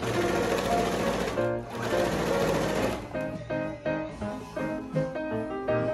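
A sewing machine stitches velvet fabric for a princess cosplay dress, running in fast rapid-fire bursts that stop and restart, then slower uneven stitching, close up with no voices.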